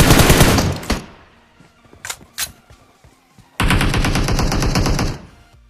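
Automatic gunfire in a shooter video game, a loud sustained burst, then a few scattered single shots, then another long rapid burst that cuts off near the end.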